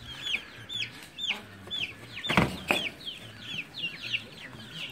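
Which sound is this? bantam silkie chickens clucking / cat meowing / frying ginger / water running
bantam silkie chickens clucking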